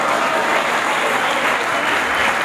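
Steady, dense applause from an audience at an anniversary ceremony for radio announcers, loud and sustained throughout without pause.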